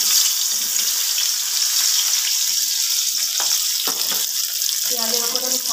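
Onion hits hot oil left over from frying fish and sizzles steadily and close throughout, with a faint voice briefly near the end.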